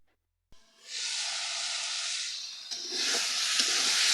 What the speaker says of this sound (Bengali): এখানে এখন মাংসগুলো দিয়ে দেব এবং 2-3 মিনিট নেড়ে চেড়ে ঢাকনা দিয়ে ঢেকে দেব